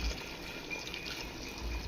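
Heated water poured into a pot of chicken khichdi, a steady, close splashing stream that runs on evenly without a break.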